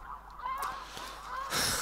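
Snow geese in theHunter Classic give a few overlapping honks at moderate distance over steady outdoor ambience, ending in a brief louder rush of noise.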